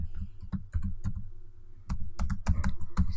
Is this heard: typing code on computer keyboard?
yes